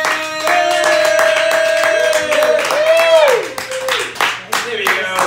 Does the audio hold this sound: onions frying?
no